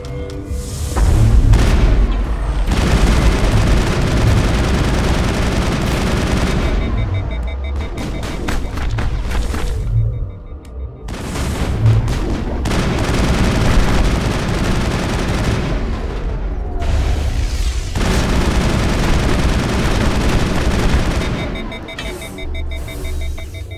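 A firefight in the Mass Effect game inside a lab, with loud sustained gunfire and heavy booms that run in long dense bursts, break off briefly twice, then resume.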